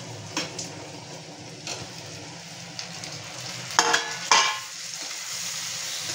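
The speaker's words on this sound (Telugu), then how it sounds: "ఇగోండి టమాటాలు వేద్దాం." Tomatoes go into onions already frying in a pan for a dried fish curry, bringing a steady close sizzle with a few sharp stirring clanks and scrapes near the end.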